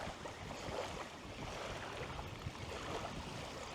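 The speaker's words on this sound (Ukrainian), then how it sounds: "Зараз, зараз, зараз вітер дує." Faint wind gusts rush over the microphone during evening feeder fishing, with a soft broadband wash like distant surf and no voices.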